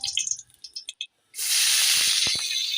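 Chopped onion drops into hot oil and erupts in a loud, sustained sizzle, close by, following a few quieter kitchen clinks and a short pause.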